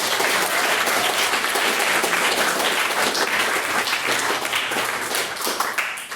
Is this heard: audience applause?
yes